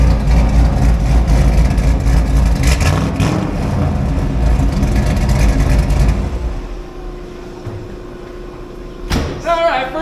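A 1991 Chevy G20 van with a swapped LS engine, 4L80E transmission and solid axle on its first drive. The engine rumbles steadily up close and eases to a quieter idle partway through, with a brief clatter near the end.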